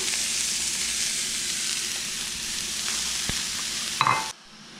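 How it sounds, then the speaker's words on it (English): Vegetables sizzle steadily in a hot pan with a constant close frying hiss, and a short clatter near the end before the sound drops away. "we are going to take our vegetables and we are going to start cooking them up on this pan"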